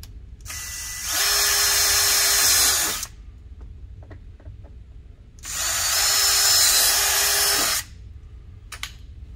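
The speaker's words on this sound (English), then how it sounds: "then we'll just match drill those holes" Two bursts of a power drill whining at high speed while drilling holes through a Can-Am Maverick X3 body panel, each lasting about two seconds, separated by quiet pauses, close and loud.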